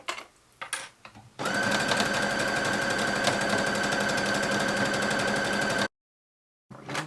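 A sewing machine stitching a seam on a sweetheart peplum top runs in a steady, close whir for about four seconds after some handling noise, then stops abruptly before a brief rustle.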